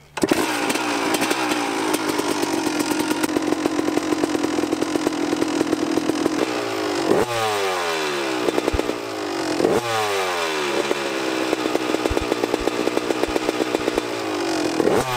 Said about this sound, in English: we're gonna start this bike up